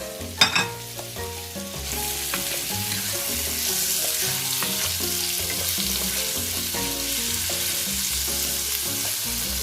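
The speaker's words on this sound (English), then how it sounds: "Now I am adding my scallops." Scallops hit a hot pan with a loud burst of sizzling that settles into a steady, dense frying hiss, with music playing underneath throughout.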